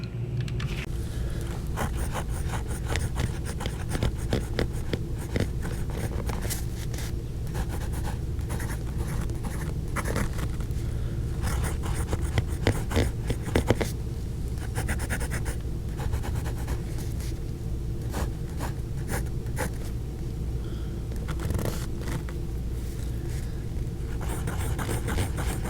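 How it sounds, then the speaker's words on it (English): A Moonman M600 fountain pen nib scratches and glides across paper in steady, close writing strokes, a continuous soft rasp with small ticks and pauses between letters, no voice present. "I think you heard that this nib is as smooth as the Centennial nib."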